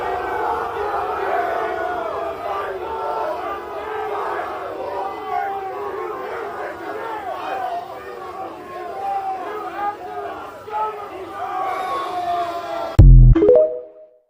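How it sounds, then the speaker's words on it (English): A crowd of college-age fans jeers and boos someone leaving through an airport, rowdy overlapping shouts and chatter held at a steady level before cutting off abruptly near the end. "they're flipping him off, booing him on the way out in the airport"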